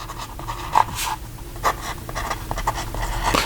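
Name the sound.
Wing Sung 698 fountain pen writing in a notebook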